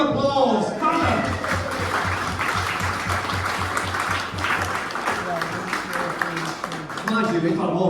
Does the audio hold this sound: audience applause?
yes